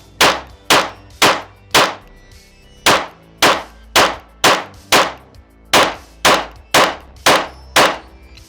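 A DC Precision DC9R pistol with a compensator fires slow rounds in a steady string of about fifteen sharp, ringing metallic cracks, with a short pause partway through, loud and close, with no voices.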